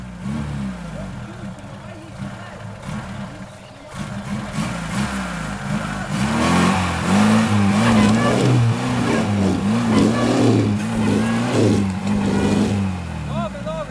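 A Daewoo Lanos engine revving hard while stuck in deep off-road mud, a loud wavering roar building and surging for several seconds, with voices talking over it.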